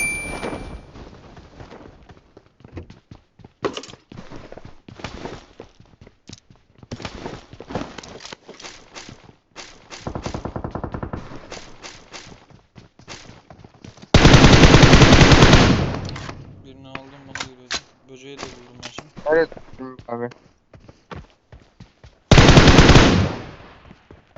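Gunfire in the PUBG Mobile battle royale game, sharp shots and bursts scattered across the scene between quieter footsteps, with two long, loud automatic volleys standing out.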